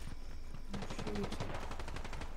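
Rapid automatic gunfire in a Fortnite Zero Build solo match, a fast steady stream of shots that sounds some distance off and keeps going without a break.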